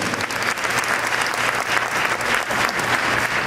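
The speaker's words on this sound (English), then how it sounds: "Let's give them a round of applause" A seated audience at a Queens Black History Month celebration claps for student honorees, a dense, loud round of applause sustained evenly from start to finish.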